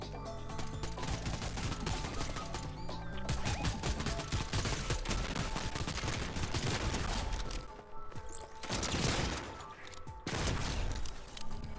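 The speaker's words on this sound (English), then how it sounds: "Time to rely on the shotgun that God gave me." Gunfire in the video game Fortnite, including a shotgun, comes as rapid, loud, dense bursts of shots and impacts with brief pauses, close and continuous over the whole stretch.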